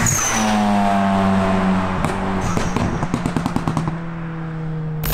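A tuned Volkswagen Golf 6 R with Stage 2+ and a popcorn exhaust map revs loudly, then drops off throttle into a rapid burst of sharp crackles and pops that clatter for about two seconds before settling to idle.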